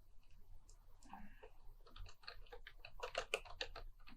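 Rapid typing on a computer keyboard while entering an English paragraph into a word-processing document, irregular clusters of close, crisp key clicks that grow denser and louder toward the end, with no talking.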